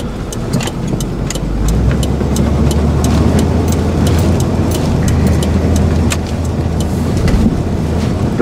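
An old carbureted truck engine, owned since 2003, idles steadily and loudly up close with a low, continuous rumble and no voices over it.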